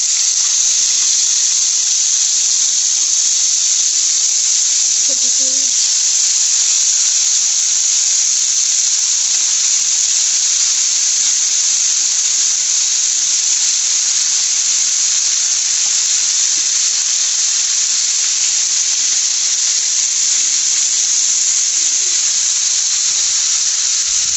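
Chicken wings frying in mustard oil in a pan give a loud, steady, unbroken sizzle and hiss that runs the whole time without pause.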